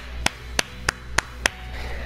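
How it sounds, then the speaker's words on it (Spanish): Five sharp hand claps at an even, fairly slow pace, close and distinct, over a faint steady background hum. "Te regalo un enorme aplauso."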